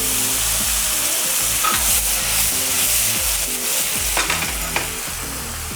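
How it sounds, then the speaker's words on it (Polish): Loud, continuous sizzling of onions frying in a pan for a sauce, with scraping and stirring sounds from a utensil moving through the food. "Szybki sos na bazie cebulki smażonej."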